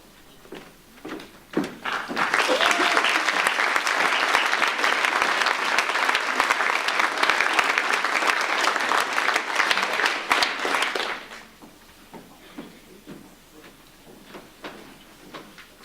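Scattered claps grow into full audience applause at a school certificate of achievement ceremony, holding strong for about nine seconds before stopping, followed by quiet room shuffling and occasional small knocks.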